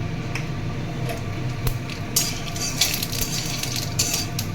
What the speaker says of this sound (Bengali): তেল গরম হয়ে গেছে, ওই তেলেই জিরে ফোড়ন দিয়ে দেবো।